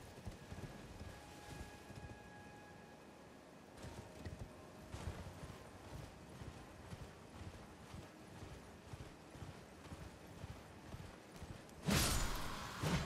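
Horse hooves galloping in Elden Ring, a steady rapid clip-clop across rough ground running continuously, with a sudden louder rushing burst near the end.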